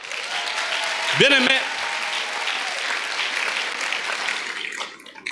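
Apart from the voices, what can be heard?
applause for the brothers in church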